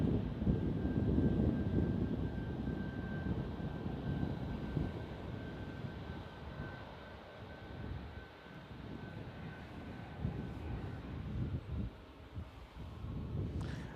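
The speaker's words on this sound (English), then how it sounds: "We have a 737 MAX 9 heading over to Denver. That is United Airlines," A United Airlines Boeing 737 MAX 9 airliner passes over near San Francisco International Airport, a broad, steady engine roar with wind buffeting on the microphone, loudest at the start and easing slightly as it continues.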